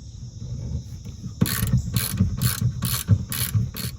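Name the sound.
removing Ford roof panel bolts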